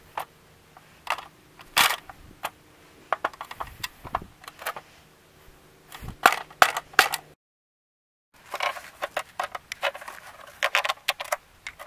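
A disk drive is being smashed open to reach a compartment inside, giving sharp irregular cracks, snaps and clattering impacts in close bursts, with a brief silent gap before more banging and rattling follows.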